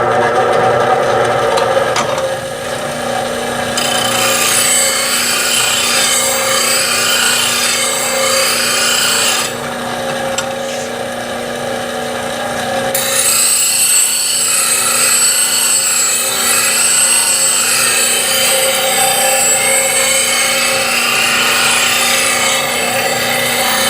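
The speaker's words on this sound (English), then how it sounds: "So let me show you sharpening with this fixture." A bowl gouge is held in a sharpening fixture against a grinding wheel, giving a steady, loud abrasive grinding and rasping hiss that runs continuously, dipping briefly as the tool is repositioned, with no talk.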